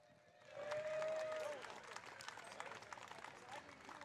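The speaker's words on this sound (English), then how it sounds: "Give them a round of applause" An outdoor audience at a summer music and market evening applauds the concert's sponsors. A dense wash of clapping and cheering rises suddenly, then settles into a steady patter, with a brief ringing tone near the start.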